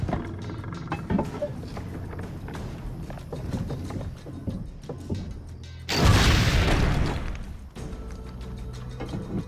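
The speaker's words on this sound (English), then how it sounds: "I do not like artillery in video games" Artillery fire in Assassin's Creed Brotherhood: a sudden heavy boom erupts midway through a busy battle scene of thuds and clattering hooves, the blast rumbling loudly for a couple of seconds before the battle noise settles back.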